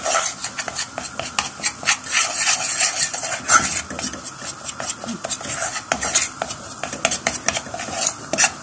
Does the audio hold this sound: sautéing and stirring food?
yes